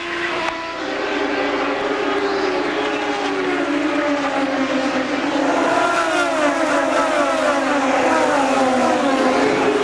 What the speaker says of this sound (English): From the top of the roll bar, there goes Herta reaching down for the gear shift.